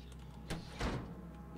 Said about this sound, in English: Somebody locked the door and I can't open it.